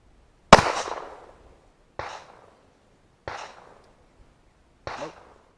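Sharp reports from a 9mm pistol firing rat shot, four distinct pops spaced roughly a second apart, the first loudest and crackling, the rest lighter with short fading tails and quiet between.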